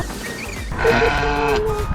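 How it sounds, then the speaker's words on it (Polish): A sheep bleats once, close and fairly clear, against quiet outdoor background noise in Mallorca. "Idziemy się przywitać z owcami."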